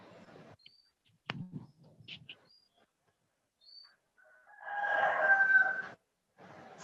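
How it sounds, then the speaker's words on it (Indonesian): Rooster crowing once, long and drawn out, fairly close, coming after scattered faint background sounds and quiet stretches. "Nunggu kokokan ayamnya berhenti mungkin ya"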